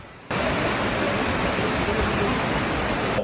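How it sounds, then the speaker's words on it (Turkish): Waterfall at Tarsus roaring as a steady, dense rush of falling water, loud and close, starting abruptly and holding constant for about three seconds with no talk. "Şelale sesi de mükemmel ha."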